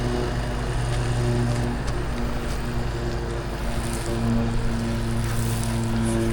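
The engine of a soft wash pump on a two-story roof cleaning job runs steadily with a droning hum, its slight irregular sputter caused by a cracked valve, heard close and alone without talk.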